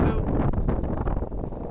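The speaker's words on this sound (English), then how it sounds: "Windy here now, gonna get 30 centimeters of snow tonight" Strong wind buffets the microphone at a crab fishing port ahead of an incoming snowstorm, a steady roaring rush with gusty swells throughout.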